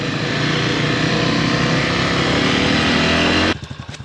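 A dirt bike revving hard on an off-road desert trail in the California City OHV area, its buzzing engine loud and close before cutting to a rough, sputtering idle at the end.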